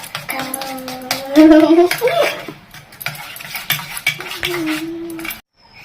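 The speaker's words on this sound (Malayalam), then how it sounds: "അപ്പൊ നമ്മുടെ സ്പൂൺ ബീറ്ററുകൊണ്ട് നമുക്ക് ഇളക്കി കൊടുക്കാം" Eggs are stirred with a spoon beater in a bowl for an omelette, rapid clinking and scraping strokes close by, with a voice speaking over the beating.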